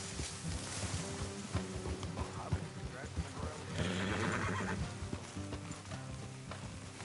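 Horses whinny loudly and hooves clop on the ground in a Western open-world video game, with a mounted rider's voice speaking over the animals.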